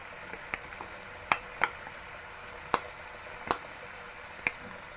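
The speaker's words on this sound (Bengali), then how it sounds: "নেড়ে চেড়ে ফ্রাই করে নিব" Marinated shrimp frying in a hot pan for fried rice: a low, steady sizzle broken by sharp, scattered pops and crackles at irregular moments.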